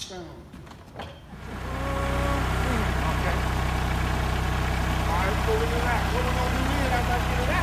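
A tractor engine idles with a steady low rumble that swells in after a moment, while people talk briefly near the start.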